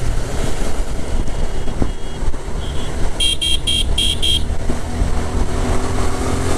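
Motorcycles set off on a road between Noakhali and Guliakhali in Chittagong, with engines rumbling steadily nearby and a quick series of short horn toots partway through.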